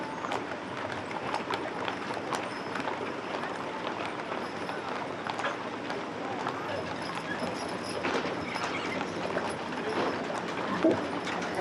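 A horse team pulling a hitch wagon in the Days of '76 parade in Deadwood, hooves clip-clopping in a steady rhythm at moderate distance amid crowd noise and a commentator talking.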